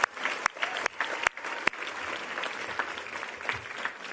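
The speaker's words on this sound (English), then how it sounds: "I want you to all give them a very big round of applause" An audience at a Braille Challenge Finals award ceremony breaks into sustained applause, a dense wash of many hands clapping with a few sharper claps standing out near the start, steady and fairly close.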